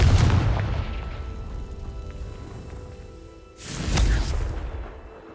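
Confringo explosive spell in Hogwarts Legacy, two loud booming blasts a few seconds apart, each with a heavy low thump and a long rumbling decay.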